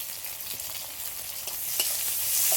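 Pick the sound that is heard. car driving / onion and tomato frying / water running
onion and tomato frying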